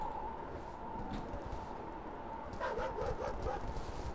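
A dog in the Last Stop: Station 66 video game gives several quick barks and yips, fairly faint, grouped in the later part over a low, steady game ambience.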